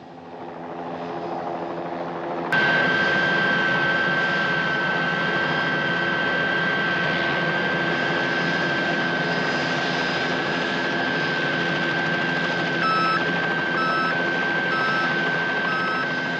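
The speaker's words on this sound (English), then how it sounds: "chopper patrol." A patrol helicopter flies overhead with a steady, loud engine drone and whine that holds constant throughout, with no voices.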